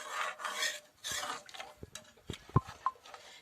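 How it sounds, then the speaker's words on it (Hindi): A spoon stirs gram flour (besan) mixture in a bowl to break up the lumps, with soft scraping rubs followed by light clinks and taps against the bowl, close and quiet. "अब इसको बिल्कुल अच्छे से मिक्स करना है ताकि इसके जो लंग्स हैं वो अच्छे से निकल जाएं"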